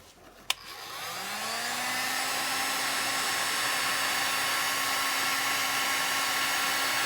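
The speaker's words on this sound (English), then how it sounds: "Then get your heat gun." A heat gun shrinking tubing on a wire connector clicks on and spins up into a loud, steady blowing whoosh with a rising whine that holds constant.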